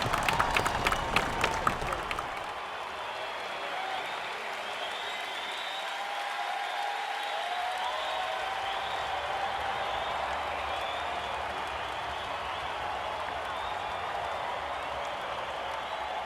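A stadium crowd at an IPL cricket match applauds and cheers a six, a dense wash of clapping that swells at first and then settles into a steady, distant roar.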